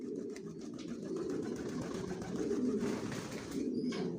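A young racing homing pigeon coos in a loft, a low, throaty murmur that goes on steadily and close by, with faint background noise behind it.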